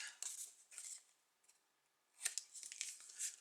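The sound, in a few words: scissors cutting corners of paper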